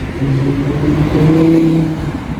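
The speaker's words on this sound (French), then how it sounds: "Les anciennes Bentley Flying Spur. Ouh, ça fait un beau bruit ça." An older Bentley Flying Spur engine rumbles steadily with a low, throaty tone, rising slightly as it revs, heard close by in Monaco without any talking.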